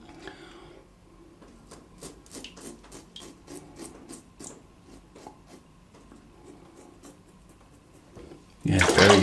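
Claymore Evolution single edge safety razor scraping across stubble, a rhythmic series of short close rasping strokes, ending in a sudden loud burst of rushing water.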